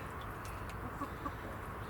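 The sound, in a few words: Rhode Island Red and Nova Brown chickens clucking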